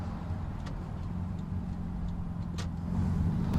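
A car engine drones steadily from inside the cabin while driving, a low continuous hum with a slight swell toward the end and a few faint clicks, no voices.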